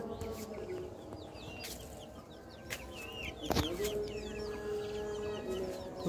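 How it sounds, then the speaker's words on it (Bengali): Tiger chickens clucking inside a coop, soft overlapping clucks and chirps over a steady low hum, with a louder sharp knock midway and a sustained tone afterward. "তো আপনাদেরকে দেখাচ্ছি আমার মুরগিগুলো।"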